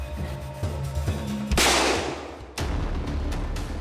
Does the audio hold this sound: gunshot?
yes